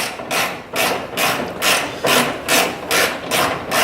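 A ratchet tightens the lower control arm bolts on a Nissan S13 240SX, making a steady back-and-forth run of rasping clicks in about eight regular strokes, loud and close, with no talk.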